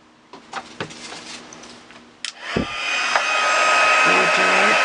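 After a few faint clicks and knocks, a hair dryer switches on and blows steadily at close range, whirring louder as it dries a watercolour painting.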